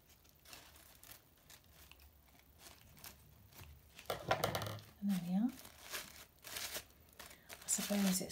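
Crisp snipping and rustling of scissors trimming the ends of paper flower petals, a few cuts in quick succession close by, with a voice talking softly underneath.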